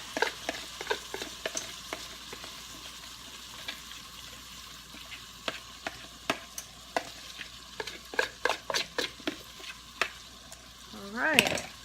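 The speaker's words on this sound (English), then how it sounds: "I am going to add my tomato and spices." Tomato and spices being stirred into ground beef for a keto chili dog casserole in a pan, with scattered scraping clicks of the utensil over a low sizzle, a burst of knocks near the end and a brief voice.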